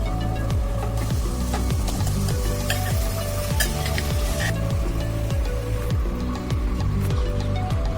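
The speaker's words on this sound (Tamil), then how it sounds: "இப்போ நம்ம இந்த மசாலா வந்து இதில் போட்டுடலாம்." Masala frying in hot oil in a kadai, with steady sizzling and repeated scraping stirs of a spoon against the pan, close and continuous with no talking.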